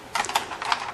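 Mechanical keys clack on a Logitech G910 keyboard in a quick irregular run of close, crisp presses, with no talk over them.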